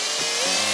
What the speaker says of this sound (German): Okay, ich bohre hier einfach mal ein Loch rein.